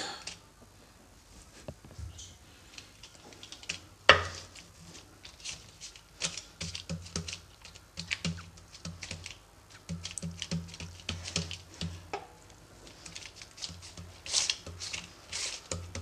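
Nippattu dough being patted flat on an oiled plastic cover, with soft irregular taps and pats scattered across the stretch, quiet and close.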